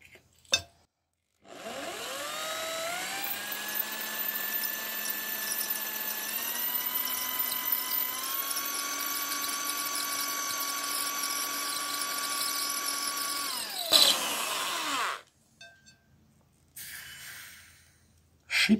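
A drill bores a hole into a porcelain plate, a sustained high whining squeal with rising harmonic tones lasting about twelve seconds, then stopping abruptly with a brief hiss before quiet.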